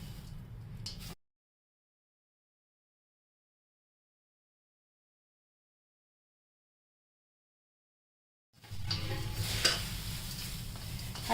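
Thin poha being stirred in a wok with oil for chivda, heard as close scraping and light sizzling in a short burst, then a long silence, then stirring again.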